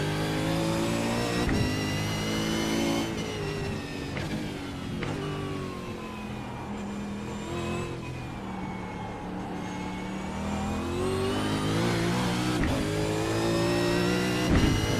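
A race car laps a circuit past the pits, its engine roaring loud and close with steady revving, gear changes and pitch swings throughout, no talk over it.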